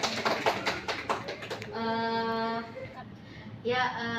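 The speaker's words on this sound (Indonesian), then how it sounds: "Kita beri aplaus dulu untuk Ananta." Brief scattered clapping in a classroom fills the opening second and a half, then gives way to a sustained tonal hum that swells again near the end.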